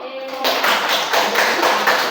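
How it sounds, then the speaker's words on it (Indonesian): A classroom of students breaks into applause after a group debate, a short quiet pause followed by dense, fairly loud clapping that continues evenly to the end. "Oke, kita beri tepuk tangan dulu."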